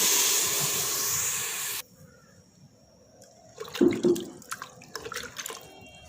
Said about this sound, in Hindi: ये देखें, अब हम इसमें ऐड करेंगे पानी।